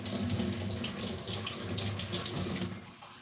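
Tap water runs steadily into a sink as a peeled onion is rinsed for homemade white vegetable stock, a continuous close splashing hiss with no talk.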